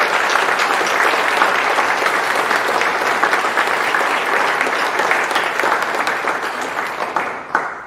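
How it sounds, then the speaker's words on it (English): Applause at an ASN nursing pinning ceremony, a sustained crowd of hands clapping steadily in a hall, tapering slightly at the end. "let's give them a hand for them."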